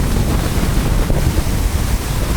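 Strong wind buffets the microphone over rushing ocean swell while riding an efoil upwind at sea, a loud, constant roar with no talking.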